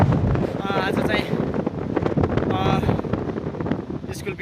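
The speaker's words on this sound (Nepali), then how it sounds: "हावा पनि अत्यन्तै लाग्दैछ" Strong wind buffets the microphone in a continuous low roar that rises and falls, while a voice speaks over it at moments.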